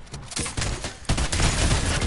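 Bursts of gunfire in the video game Fortnite crack out in two loud clusters, dense and close, with sharp broadband blasts packed tightly together.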